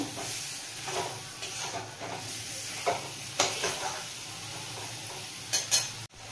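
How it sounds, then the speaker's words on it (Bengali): Chicken pieces stir-fried in a pan for butter garlic chicken: soft continuous sizzling with intermittent scraping strokes of the spatula, fairly quiet and close, with no voices. "চিকেনটা দেওয়ার পরে বেশ ভালো করে কষিয়ে নিতে হবে, ভাজা ভাজা করে নিতে হবে।"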